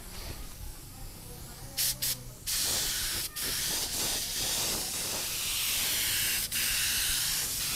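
A spray gun hisses paint onto a plastic panel from a Honda Supra Fit motorcycle under restoration, a few short bursts followed by a long continuous loud spray with brief breaks.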